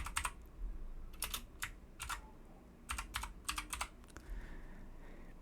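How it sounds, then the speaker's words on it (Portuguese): Typing on a computer keyboard while filling in a spreadsheet, with quick bursts of soft key clicks separated by short pauses over a low room hum, close but quiet. "Vamos digitar."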